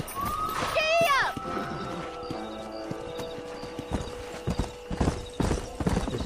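A horse in the Red Dead Redemption game whinnies, then its hooves clip-clop in a steady galloping rhythm, close and clear over faint background ambience.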